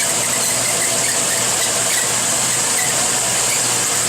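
An Air Control FH-45-S-SS-4 wet bench dump rinser dumping and refilling: a steady, loud rush of water with a constant high hiss and machine hum, unbroken throughout.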